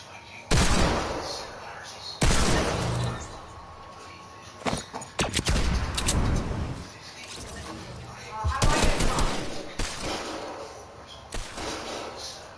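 Video game gunfire crackles in several loud bursts of shots and booms separated by short gaps, with voices talking between and over the volleys.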